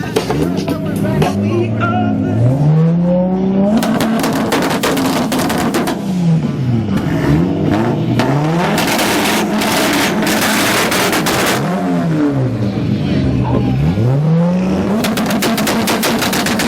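A Toyota Supra and a Honda S2000 parked close together, rear to rear, rev their exhausts hard and loud, with repeated rising and falling engine sweeps, sharp pops and brief pauses between blips.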